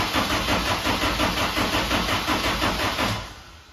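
A car engine with a suspected weak battery cranks in a steady, rhythmic churn, loud and close, for about three seconds before dying away, with no voices over it.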